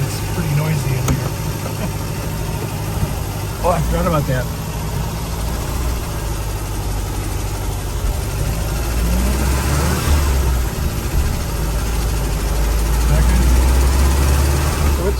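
A car engine drones and idles steadily from inside the cabin with the engine cover off, giving a loud continuous rumble with slight revving near the end while a person talks briefly over it.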